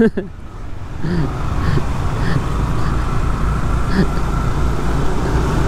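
Engine noise rolls steadily along a Canggu, Bali road at night while overtaking motorbikes, a continuous close rumble of passing traffic with faint horn-like tones and a voice talking over it.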